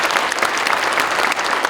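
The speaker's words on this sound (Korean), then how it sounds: "다시 한번 박수해 주시죠." Audience at a New Year prayer breakfast for Gyeonggi Province leaders, held in a church, breaks into steady, even applause, a brief burst of many hands clapping with no talk over it.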